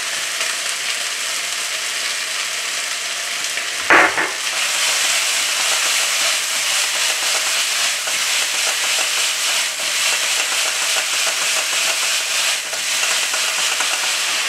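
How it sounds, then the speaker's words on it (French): Chicken sautéing in a pan as sugar lightly caramelises, a loud, steady frying sizzle and hiss that runs nearly unbroken, with one brief knock near the start. "On attend que le sucre caramélise très légèrement."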